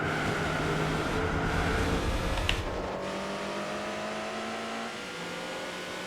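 Lotus race car in Gran Turismo 4, its engine revving and accelerating steadily with rising tone through gear changes, loud and continuous under game ambience, no talk.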